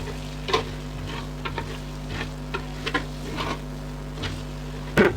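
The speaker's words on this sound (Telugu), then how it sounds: "చికెన్ వేసుకొని ఒక 2 నిమిషాలు హై ఫ్లేమ్లో ఈ ఆయిల్లో చికెన్ని ఫ్రై చేయాలండి కలుపుతూ" Chicken frying in oil over a high flame while being stirred, a soft continuous sizzle broken by intermittent scrapes and clinks of the spoon against the pan, ending with a louder knock.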